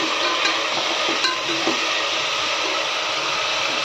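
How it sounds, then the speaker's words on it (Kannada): Sweet corn frying in a pan for menthya sweet corn bath, with a steady, even hiss and the occasional faint scrape of stirring running throughout. "ಅದನ್ನು ಸ್ವಲ್ಪ ಹಾಕಿ ಚೆನ್ನಾಗಿ ಫ್ರೈ ಮಾಡ್ಕೋತಾ ಇದ್ದೀನಿ."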